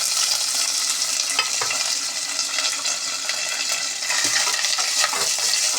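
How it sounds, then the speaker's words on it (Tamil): Onion, green chilli, curry leaves, star anise, clove, mace and a piece of cinnamon sizzle in a pan for ghee rice, a loud steady frying hiss with occasional stirring scrapes and no voices. "எல்லாத்தையும் போட்டு நல்லா வதக்கணும்."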